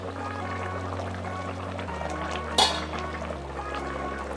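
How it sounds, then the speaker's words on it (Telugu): Potatoes go into a cooking pot for an aloo chicken curry with a single clattering splash and a soft pouring sound, all over a steady low hum from the stove. "ఇప్పుడు ఇదే టైంలోనే మనం బంగాళదుంపలను కూడా యాడ్ చేసుకుందాం"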